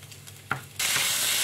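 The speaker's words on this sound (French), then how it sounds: "Versez de l'huile dans la poêle ou casserole et va faire cuire de l'ail en premier." Garlic hits hot oil in a pan and bursts into a loud, steady sizzle after a brief clatter, close and continuous to the end.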